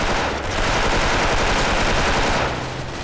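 M4A1 rifle fire in the video game Special Force, a continuous loud burst of rapid automatic shots running for about three seconds with no talk.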